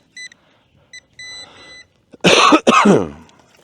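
A few faint electronic beeps, then two loud, harsh bursts of coughing and throat clearing close to the microphone.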